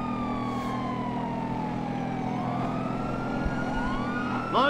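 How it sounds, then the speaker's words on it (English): Police sirens wail in Grand Theft Auto 5 during a highway pursuit, sustained sweeping tones rising and falling over a constant engine drone, loud and continuous throughout, with a sharper siren swell near the end. "I don't think they can hear the sirens"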